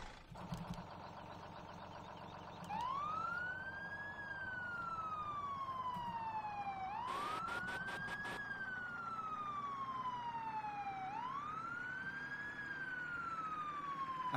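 Fire engine siren from Farming Simulator 17, loud and alone, wailing in slow rising-and-falling sweeps that repeat about every four seconds, with a brief harsh horn blast in the middle.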